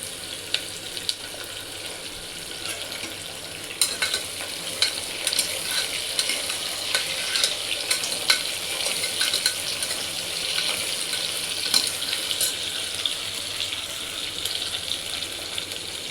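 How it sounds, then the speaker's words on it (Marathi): Onion with curry leaves and whole spices fries in a pan, a steady crackling sizzle broken by repeated scraping stirs of a spoon across the metal. "कांदा आता चांगला लाल करून घ्यायचा।"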